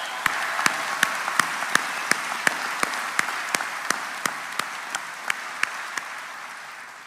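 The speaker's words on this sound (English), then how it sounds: "how about one final round of applause for all of our award winners?" A crowd at a graduation ceremony applauds steadily with dense, even clapping from many people, a few sharper claps standing out near the front.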